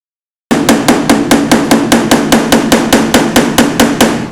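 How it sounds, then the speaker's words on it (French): Steel car body panel struck with quick, light hammer blows during bodywork repair: a steady, even series of about sixteen sharp, loud metallic taps at close range, with no talk. "Des petits coups rapides, ça aura plus tendance à facilement chauffer la tôle pour dire de la travailler."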